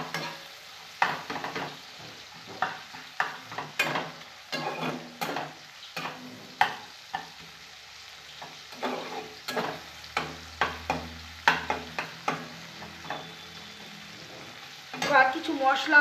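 Tomatoes fry in a pan while a spatula presses and stirs them, giving repeated scraping and pressing strokes over a soft, steady sizzle, heard up close with short pauses between strokes.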